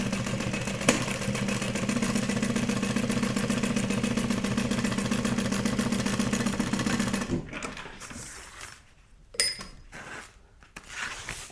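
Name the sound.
sewing machine stitching a duffel bag panel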